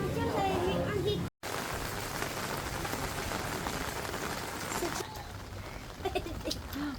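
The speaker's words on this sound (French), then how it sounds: "on est bien là sous la pluie" Dense, steady rain hisses throughout in Bali, with a voice speaking under it at the start and faint calls toward the end.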